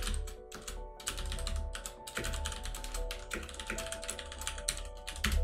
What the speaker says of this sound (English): I'm going to just basically type out a simple hello world application